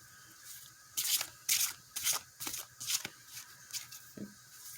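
A deck of cards is riffled and shuffled repeatedly in quick crisp bursts, about seven in a row, close by with no talking.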